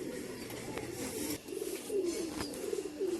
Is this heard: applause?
no